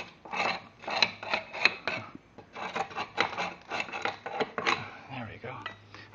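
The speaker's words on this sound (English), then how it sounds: "Just clean it up a little bit more. Scrape it off." Repeated close scraping strokes as material is cleaned off a surface, a series of short gritty rasps in an uneven rhythm with brief pauses between them.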